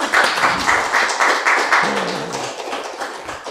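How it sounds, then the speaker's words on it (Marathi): An audience applauds during a Marathi health interview, with steady, rhythmic clapping that is fairly loud and close at first, then slowly fades a little toward the end. "आणि आपण सगळ्यांनी टाळ्या वाजवू शकतो ना."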